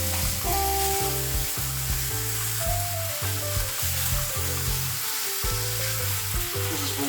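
Beef browns in a pan for SOS gravy with salt and pepper, a steady, dense sizzle running close and continuous beneath a layer of rhythmic background music, with no talking.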